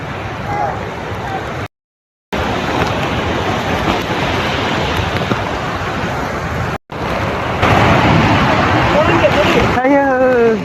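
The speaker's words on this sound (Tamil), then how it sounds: "ஏதோ வானத்துலேருந்து தண்ணி விடுற மாதிரி இருக்குது." A loud, steady roar of rushing, falling water at Athirappilly Waterfalls in Kerala, India, fills the air, broken by a couple of brief silent gaps, with faint chirps near the end.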